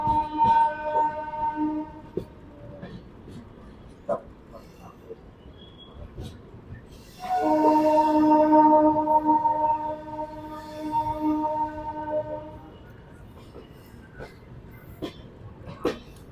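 Duronto Express passing through Agra Cantt station, a steady rolling rumble of the train with a long sustained horn blast in the middle, heard from on board, with occasional clatter.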